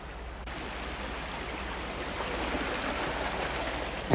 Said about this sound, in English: And then this is waterfall number 2.